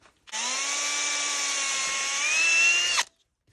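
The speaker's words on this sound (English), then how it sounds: "Now I'm going to drill" Power drill boring a hole through a UHMWPE plastic fishing reel guide, one steady whining run of about three seconds, close and loud, with the pitch rising slightly before it stops abruptly.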